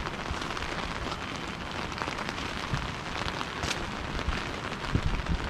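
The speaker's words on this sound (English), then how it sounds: "Probably all you can hear is rain." Steady rain pours down at Lake Louise in a dense, continuous hiss, with scattered drops spattering on nearby surfaces and no voices.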